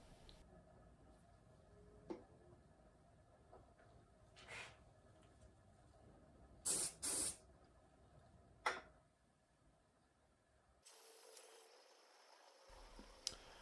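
CA glue accelerator sprayed onto coats on a pen, two short bursts of hiss close together amid faint ticks and handling clicks in a quiet workshop, no talk.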